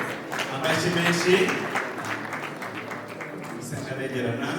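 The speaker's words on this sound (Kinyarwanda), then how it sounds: "murakoze cyane ni muyitambike amashyi menshi" Wedding guests in Rwanda applaud, a moderate wash of clapping that swells early and then settles, carried under someone speaking over a microphone with crowd chatter around him.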